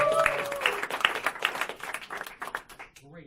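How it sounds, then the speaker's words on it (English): Applause from a magic show audience welcoming a volunteer onstage: clapping swells briefly, thins into scattered claps, then fades as a voice starts speaking at the end. "Kayla, round of applause for her."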